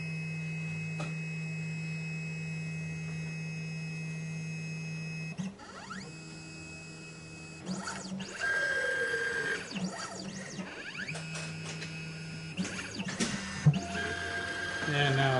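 A Laser Key Products 3D Xtreme key machine runs its tracer calibration, giving off steady motor hums, whirring pitch sweeps and small mechanical clicks and beeps, close and moderate in level, with no talk over it.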